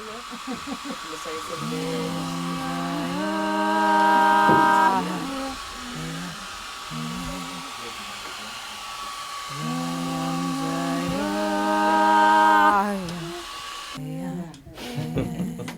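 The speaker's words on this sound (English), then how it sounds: "In the case of Hildá, that implicates a hairdryer" A hair dryer blows with a steady airy whoosh in a music studio while sustained harmonic tones swell and step upward over it twice, the noise continuing throughout.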